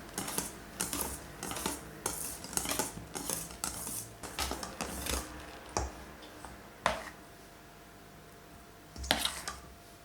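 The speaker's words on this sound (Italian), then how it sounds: "Mescolo con attenzione dal basso verso l'alto per non smontare la panna." A utensil folds whipped cream into a chocolate coffee cake mixture in a bowl, giving a run of light, close clinks and soft scrapes against the bowl. The sounds come in irregular bursts, with a few sharper taps and no talking.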